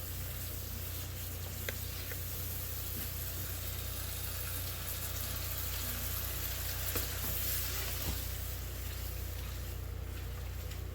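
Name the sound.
water added to frying pierogi and kielbasa, sizzling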